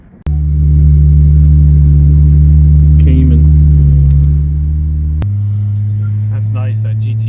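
A Porsche GT4 rumbles loudly up close and then pulls away. Its engine tone drops to a lower, steadier drone, and faint voices are heard in the background.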